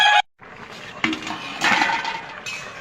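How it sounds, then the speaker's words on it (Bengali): Cut eggplant goes into a pan for a curry. There is a sharp clatter of metal, then scraping and clinking from a spoon stirring in the pan, close and fairly loud. "এবারে বেগুন কেটে রেখেছি এটা দিয়ে দেব নাড়িয়ে দেব"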